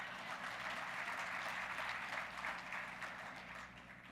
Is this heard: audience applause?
yes